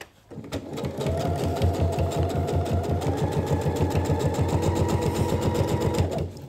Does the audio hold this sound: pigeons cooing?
no